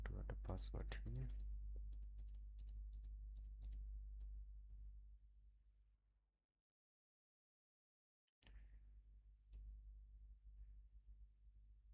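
Quiet, rapid clicking of keys on a computer keyboard as a password is typed, close by and faint, with a hum beneath, a brief silent gap midway, then more light tapping.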